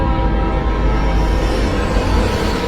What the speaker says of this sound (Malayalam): ഇരുട്ടിനെ കീറി മുറിച്ച് ഹുങ്കാര ശബ്ദത്തോടെ അടുത്ത ട്രാക്കിലൂടെ മറ്റൊരു ട്രെയിനും കടന്നുപോയി.